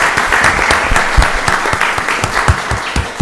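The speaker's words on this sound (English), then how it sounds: "Can we give them another round of applause?" A county board of commissioners meeting audience bursts into loud, close applause, a thick continuous clatter of many hands with a few heavier claps punching through.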